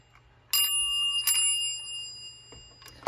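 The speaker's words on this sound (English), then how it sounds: "we have my Dover bell" A Dover elevator bell rings twice close up, each bright metallic strike sustaining a clear ringing tone, followed by a fainter third tap near the end.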